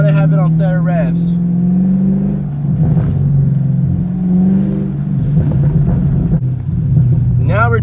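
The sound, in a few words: Chevrolet Camaro revving with exhaust pops and crackles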